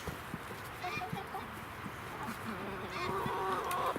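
Chickens cluck softly in a farm coop at morning chore time, scattered short calls repeating over a steady low background, fairly quiet and moderately distant.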